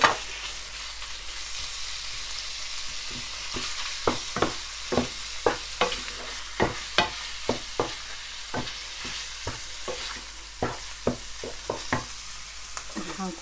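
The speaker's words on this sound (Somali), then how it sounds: "marka basashan hadda ku darsanaya cabaar yar ay shiilanto basasha markay ii soo caraftay ayaan ku shubanayaa hilibka" Meat sizzling with onions in hot oil in a pot for a Somali meat and potato dish, a steady close frying hiss broken by regular crackles and pops as it is stirred, with no talking.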